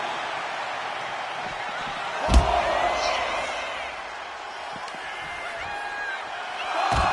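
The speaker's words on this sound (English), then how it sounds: "He's pumped up, and so is this crowd." Arena crowd in the WWE 2K25 wrestling video game cheering steadily throughout as a wrestler heads to the ring and outside, with a sharp impact slam partway through and the crowd swelling again near the end.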